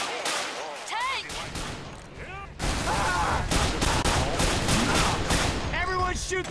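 Rapid gunfire from several players in Left 4 Dead 2 pours onto a Tank, dense bursts building into a loud, continuous barrage after a brief lull, with people talking over the shooting.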